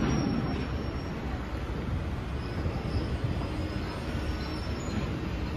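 A Keihan electric train rolls on street-running track in Otsu as it comes to a stop, giving a steady dense rumble of wheels and motors with a faint thin high whine, heard close and continuous without voices.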